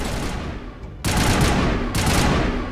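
A turret fires in the video game Mass Effect Legendary with loud, dense bursts of rapid automatic fire. A short pause breaks the first burst before a sustained barrage, and a second sharp burst follows about a second later.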